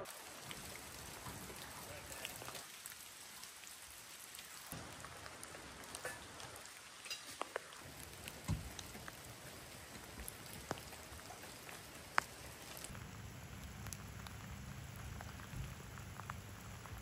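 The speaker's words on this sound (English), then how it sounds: "Another rainy morning here near Honeydew and Humboldt." Steady rain falls on a morning near Honeydew in Humboldt County on the Redwood Coast, a soft, constant hiss of drops pattering on nearby surfaces with a few sharper taps, faint and continuous, with no voices.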